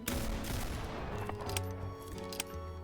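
Rapid gunfire in a shooter video game, bursts of automatic shots overlapping continuously and loud throughout, with a few sharper reports standing out near the end.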